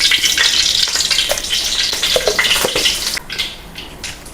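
Mustard seeds hit hot oil in a pan and sizzle and crackle loudly and steadily, fading slightly toward the end with no one talking.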